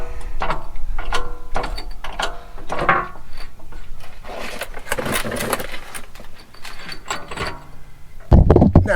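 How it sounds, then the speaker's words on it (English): Floor jack pumped under a 100-series Land Cruiser, giving a run of close, loud ratcheting mechanical clicks and clanks in uneven strokes, ending in a heavier burst of metallic noise. "So much easier with the floor jack."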